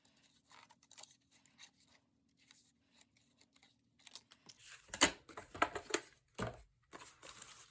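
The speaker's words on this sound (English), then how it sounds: "I'm just following along the edges of the embossed design, which makes it really easy to cut" Embossed paper is cut along the edges of its raised design, giving quiet, sparse snips and crisp cuts that grow louder and more frequent in the second half.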